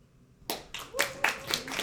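Scattered clapping from a small comedy-show audience, several short bursts of hand claps rather than full applause, fairly close and moderate in level with no talking over it.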